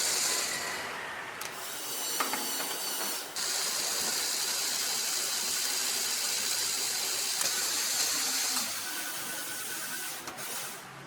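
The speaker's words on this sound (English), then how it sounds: "The gear mechanism performs beautifully," A LEGO gear mechanism hoists a LEGO car, giving a continuous whirring, ratcheting mechanical grind that runs steadily for several seconds with brief clicks and pauses.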